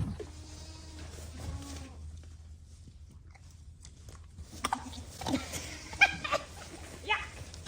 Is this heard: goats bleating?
yes